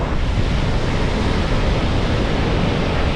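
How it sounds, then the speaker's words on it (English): Ocean waves crash against a rock on the coast, a loud, continuous wash of surf and spray mixed with wind buffeting the microphone, with no voices. "Every once in a while, a big wave comes in and slams up against that rock, and the water just shoots up 20 feet in the air."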